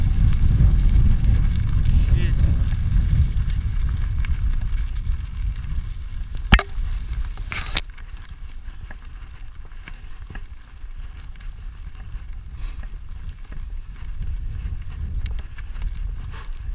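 Strong wind buffets the microphone in a continuous low roar, heaviest at the start, with a couple of brief sharp knocks partway through.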